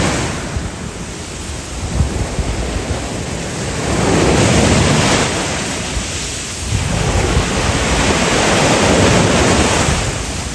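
Sea waves at Alanya on the Mediterranean, a loud roaring wash that swells and recedes in slow surges, with wind rumbling across the microphone and no voices.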